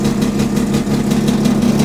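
A first-generation Mazda RX-7 with a built rotary engine idles close by, tuned without an idle air control valve, giving a steady, loud, buzzing drone with a slightly lumpy pulse and no voices.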